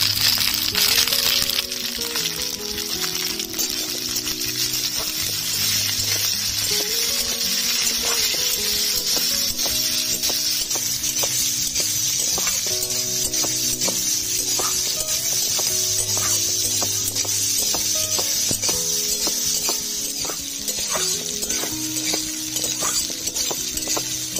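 Pointed gourd peels fry steadily in hot oil with salt and turmeric, a continuous close sizzle with repeated scraping stirs and light utensil clinks throughout.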